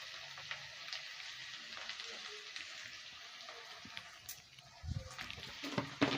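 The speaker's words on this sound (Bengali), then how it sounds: "বন্ধুরা, মশলাটা কষে নিয়েছি" Spice masala for a Kolkata-style rui fish curry sizzles and crackles steadily in a pan as it is sautéed, a soft close frying hiss with light stirring scrapes and a few louder pops near the end.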